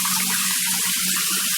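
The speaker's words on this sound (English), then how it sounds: "Your pipe's leaking here." Water runs in a constant broadband hiss from a leaking galvanized pipe near a loose toilet. It is steady and close, with a low hum underneath and no talking.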